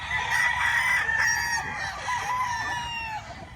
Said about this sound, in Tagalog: Dami daming manok